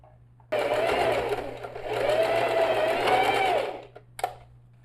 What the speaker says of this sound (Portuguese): passar a minha costura definitiva no painel